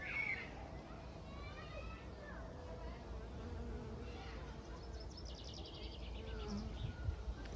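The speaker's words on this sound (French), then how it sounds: "Il y a des abeilles sauvages." Wild bees buzzing as they forage among avocado tree flowers, a continuous insect drone with passing buzzes near and far, while someone talks quietly over it outdoors.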